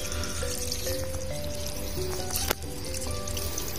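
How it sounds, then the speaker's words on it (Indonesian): Water runs steadily from a hose onto the ground while a durian tree planted in a former rice paddy is watered, a continuous trickling splash close by, with a single sharp knock midway. "Nah ini udah saya siram."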